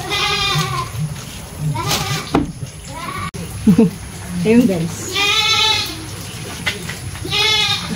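Goats bleating repeatedly in a provincial yard, loud, close calls with a wavering tremble, with children's voices and someone talking between and over the bleats.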